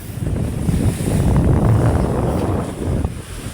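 Strong wind buffets the microphone on a boat out at sea under dark, threatening skies, a loud continuous rushing roar mixed with the low wash of moderate waves, with no voices.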